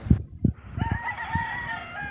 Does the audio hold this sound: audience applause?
no